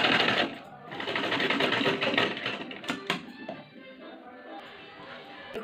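A sewing machine stitches a pleated net skirt, its rapid, steady mechanical whirr running loud and close for several seconds before easing to lighter intermittent stitching, with a few sharp clicks along the way.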